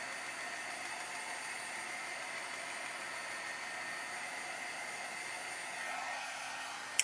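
A handheld dryer blows over holiday tags coloured with Inktense ink. It gives an even, close, constant whoosh of air throughout, ending with a brief click.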